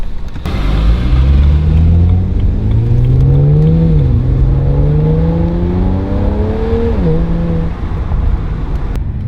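BMW 335i with the N54 engine and an M-Sport exhaust pulls hard through several rising gears, loud and close, its exhaust note climbing and dropping at each upshift.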